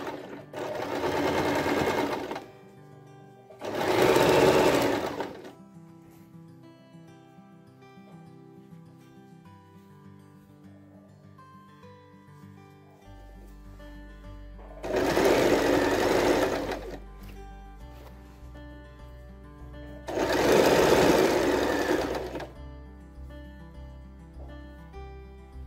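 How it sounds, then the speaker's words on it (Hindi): A sewing machine runs straight stitching on box pleats for a frock or skirt in four separate bursts of a few seconds each, loud and close, with quiet pauses between them. "सिंपल स्ट्रेट स्टिचिंग लगाएंगे"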